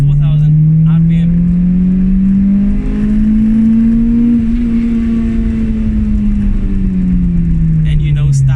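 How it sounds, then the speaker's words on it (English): A Toyota Corolla 4AGE 20-valve twincam engine hums loud and close, its pitch climbing steadily as it revs past 4000 RPM, then easing back down, with a voice faintly audible. "Engine starts to make a more higher pitched noise with the variable valve timing"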